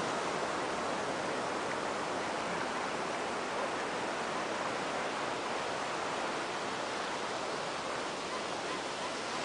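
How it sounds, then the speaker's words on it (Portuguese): Ocean waves break at Enseada beach in Ubatuba, making a continuous, soft, hissing wash of surf that stays even and fairly faint throughout, with no distinct single crash and no talking. "Nossa, tamanho da onda quebrando."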